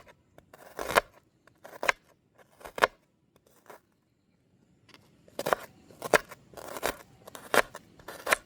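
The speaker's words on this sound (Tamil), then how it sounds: "நாங்கள் இந்த வெங்காயத்தை நல்ல மெல்லிசாக வட்டி எடுப்போம்." Onion sliced thinly with a knife in a village kitchen, sharp crisp cuts at first spaced apart, then a quicker cluster of strokes after a short pause, close and clear with no talking.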